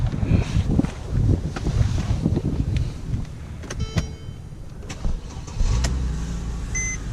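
A 2010 Mercedes E350 starts up, with interior rustles and clicks before the engine catches and settles into a low, steady idle, heard close from inside the cabin.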